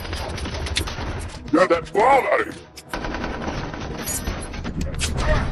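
A film gunfight at the Iranian embassy bursts with rapid gunfire volleys and sharp impacts, mixed with dramatic scoring and a brief shouted line of dialogue in the middle.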